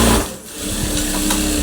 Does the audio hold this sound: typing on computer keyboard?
no